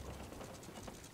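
A ship being brought to a halt in Sea of Thieves, heard as a steady ratcheting, clicking mechanism with gear-like creaks, continuous and fairly close in the game mix.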